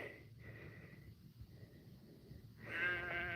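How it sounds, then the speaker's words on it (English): Sheep ewes bleat from a short distance away, a couple of wavering calls over quiet outdoor background, the last one louder and closer. "There's the ewes down there."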